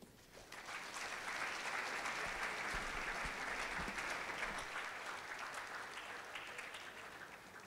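An audience at a hackathon event breaks into applause that swells within a second into a dense, sustained wash of clapping, holding steady and then tapering slightly.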